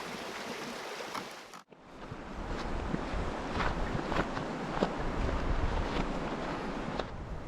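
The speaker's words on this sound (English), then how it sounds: "we cross over wooden walkways and over streams that flow underneath" A stream flows beneath wooden walkways on an autumn trail near Frisco and Silverthorne, Colorado, making a steady rushing wash mixed with wind buffeting the microphone after a brief cut near the start.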